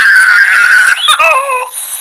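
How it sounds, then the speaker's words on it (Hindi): A baby cries in a high, wavering wail that breaks into shorter falling sobs. It is loud and close, with no other sound. "गुड़िया के रोने की आवाज"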